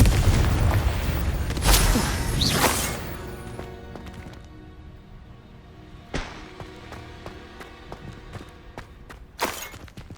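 Confringo blasting spell in Hogwarts Legacy, a few sharp booming bursts with fading rumble between them, loud at the start and quieter hits later.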